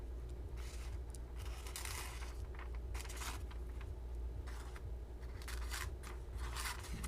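Schrade replaceable-blade knife with a flat belly edge slicing through a single sheet of paper on a tabletop, giving repeated short scratchy cutting strokes over a steady low background hum, close and fairly quiet with no talking.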